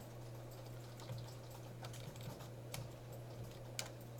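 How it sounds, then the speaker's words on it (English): Keys clatter on a computer keyboard during a programming lesson, a faint, irregular run of light clicks with a few sharper taps over a steady low hum, with no talk. "So it's going to be a lot of typing"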